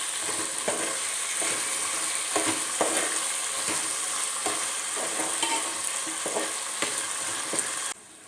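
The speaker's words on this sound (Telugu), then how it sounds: "సన్నగా తరిగిన ఉల్లి కాడలు వేస్తున్నానండి త్వరగా వేయించుకున్నామండి" Finely chopped spring onion stalks frying in a pan for a South Indian curry, a steady close hiss of sizzling oil with occasional stirring scrapes, loud and continuous until it cuts off near the end.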